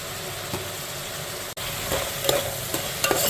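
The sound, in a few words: frying ginger garlic paste with coriander for biryani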